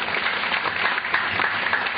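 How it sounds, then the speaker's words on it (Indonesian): An audience at a talk gives a short burst of applause for a questioner, a dense, even patter of many hands with no speech on top. "Tepuk tangan dulu untuk penanya."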